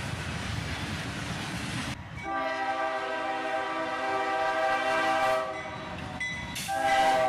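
A freight train carrying an RJ Corman gondola car passes close by with a rumbling roll of cars. A loud horn then blares in sustained blasts, breaks off briefly and sounds again at the end.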